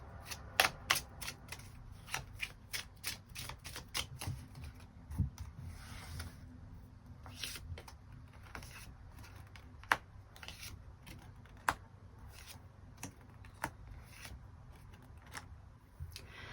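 Tarot cards shuffled and drawn in a reading, a steady run of crisp, close paper flicks and snaps with sharper card slaps now and then, quiet and continuous with no voices.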